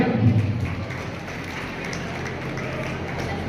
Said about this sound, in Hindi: महंत जी का जोरदार तालियों से स्वागत करें